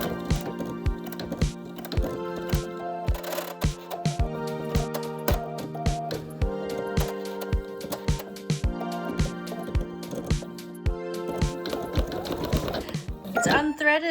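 An embroidery machine stitches in a rapid, regular mechanical clatter with sharp repeated needle strikes and a steady motor whine, pausing briefly midway and ending in a burst of rattling.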